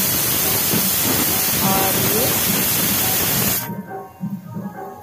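A pressure cooker of masoor dal with ridge gourd vents its whistle in a loud, steady hissing rush of steam that cuts off abruptly, leaving quieter kitchen sounds, while a voice speaks briefly.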